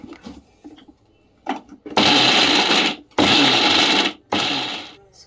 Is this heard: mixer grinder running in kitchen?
yes